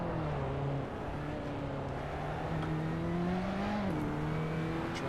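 Race car engine in a racing video game, a steady droning whine rising slowly in pitch with a brief shift near the end, continuous and close, with no talk.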